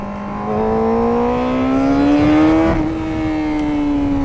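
Superbike engine pulling hard in first gear through a corner, a loud close rising whine that climbs steadily in pitch, briefly dips mid-corner and then holds, with no voices.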